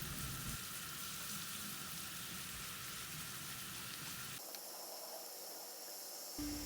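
Lemongrass fries over medium-high heat in a pan, a soft steady sizzle that cuts to quieter hiss partway through, faint and continuous with no talk.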